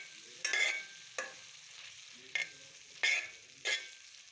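Minced beef sautéing in a pan with onion, garlic and ginger paste for keema spaghetti, a steady close sizzle broken by about five sharp stirring scrapes at uneven intervals.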